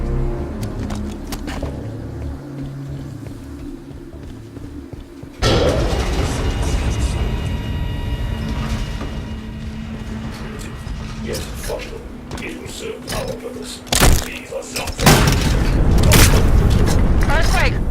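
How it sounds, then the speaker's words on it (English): Deep earthquake rumble in the Halo 5: Guardians campaign, a sudden loud low roar that takes over partway through and keeps churning with cracking impacts, mixed with game noise and a voice. "Earthquake! Watch your heads!"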